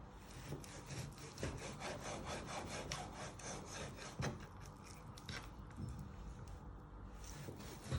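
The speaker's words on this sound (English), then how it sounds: "So you're just slicing it. You might have to give it a little bit of force." Knife slicing beef into thin strips for Mongolian beef, a steady run of close rasping strokes through the meat with occasional firmer cuts, no talking.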